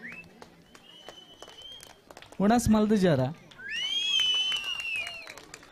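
An audience claps for a children's dance at a community Shani puja gathering with a cultural programme. Scattered applause runs under a loud voice and crowd chatter.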